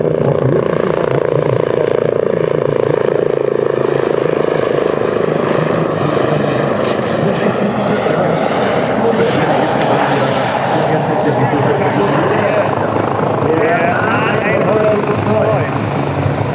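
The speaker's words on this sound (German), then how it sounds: "Sehr anspruchsvoll zu fliegen in den Hubschrauber" Agusta A109 helicopter flying a display at an air show, its loud, steady rotor and turbine roar continuous throughout, with people talking underneath.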